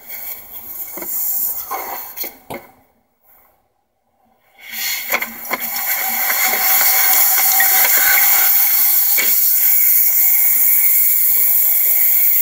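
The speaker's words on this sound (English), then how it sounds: "Looks like it has a magic spray system" Magic spray system at a self-serve Magic Wand car wash in Illinois, with hissing water spray that cuts out into silence for a moment, then returns as a loud steady rushing spray.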